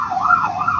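An ambulance siren wails outdoors, its rising and falling tone steady and moderately loud through the whole short stretch, with no voices over it.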